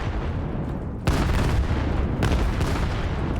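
A grenade blast and gunfire in a VR team shooter match, heavy booming hits landing over a dense rumble, loud and close with no talk.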